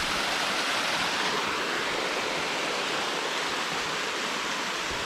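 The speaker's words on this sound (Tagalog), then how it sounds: "ito yung falls nya," Kakawayan Falls in Infanta, Quezon pours steadily, a dense, continuous roar of rushing water filling the space evenly with no voices or breaks.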